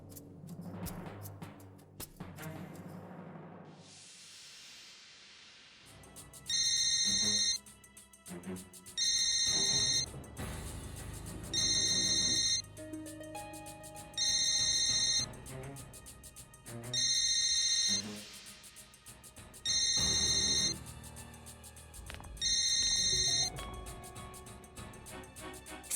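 A telephone rings repeatedly in a French-dubbed TV drama scene, seven evenly spaced bright electronic ring bursts about every two and a half seconds, loud and clear over soft background music.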